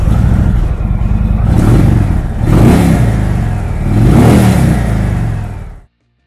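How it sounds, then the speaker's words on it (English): A 2018 Indian Roadmaster motorcycle with a 111 cubic inch Thunderstroke twin engine idles with a deep throb, then revs in several rising surges before cutting off abruptly, close and loud with no talking. "its 111 cubic inch Thunderstroke twin cam motor. This power plant puts a potent 118 foot-pounds of low-end torque through a 6-speed transmission, and sounds great doing it"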